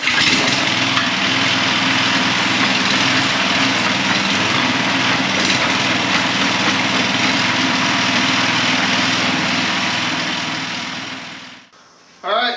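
Small engine of a Manco Intruder II go-kart running steadily at a rough, buzzing idle, loud and close, then cutting off abruptly near the end.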